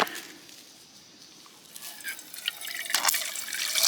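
Water pours from a bottle into a small container on a summer hike, starting with soft trickles and building into a brighter, louder gurgling stream near the end.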